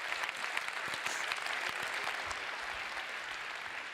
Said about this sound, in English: A very nice round of applause